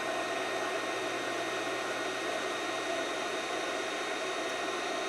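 A KKSEVENS KS01 induction heater heats a steel bolt, giving off a steady, even hiss with a faint hum beneath it, constant and unbroken throughout.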